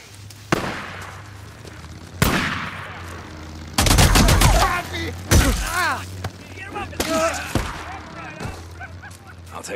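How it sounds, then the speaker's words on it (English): A firefight in the video game Days Gone, with loud, sharp gunshots and rapid volleys cracking at irregular intervals, the densest burst in the middle, and voices mixed in among the shots. "Open fire!"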